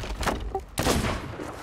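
A couple of booming cannon blasts in the video game Sea of Thieves, one sharp and heavy, followed by a rumbling tail, with faint voices in the background.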